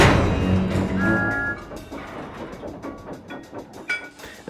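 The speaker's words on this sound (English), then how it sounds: "As Edward was arranging the train, he made sure to couple the fruit vans to the back" A train runs on rails with steady rumbling and rhythmic clacking, fairly loud and alone, with some brief tonal squeals.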